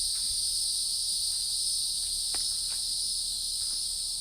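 A cicada drones in a steady, high, unbroken buzz beside a dove food plot, holding loud and even throughout, with a few soft clicks and rustles underneath.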